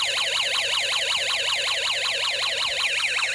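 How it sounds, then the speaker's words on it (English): A Snap Circuits toy electronic police siren wails in a steady, rapid up-and-down cycle, loud and continuous with a thin, toy-like tone. "When you turn on the slide switch, the police siren sounds"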